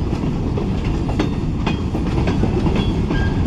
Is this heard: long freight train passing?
yes